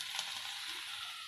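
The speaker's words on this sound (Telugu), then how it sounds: "ఇలా రొయ్యలు అయితే ఇలా ఫ్రై అవ్వాలి" Prawns fry in a pan once their water has cooked away, making a brief, soft, continuous hissing sizzle.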